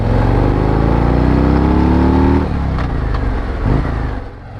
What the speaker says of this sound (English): Gotta love that 117 revving up.